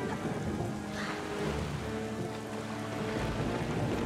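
Steady rain falling on islands in the video game The Legend of Zelda: The Wind Waker, a continuous broadband wash of rainfall and sea-like noise with game music tones underneath, even and unbroken throughout.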